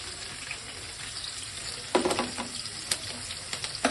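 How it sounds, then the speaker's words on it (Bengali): Green beans fry in a pan for fried rice over a constant close sizzle, with a few sharp scrapes and clinks of a spatula stirring them partway through. "এর মধ্যে বিনসটাও একটু ভেজে দেবো"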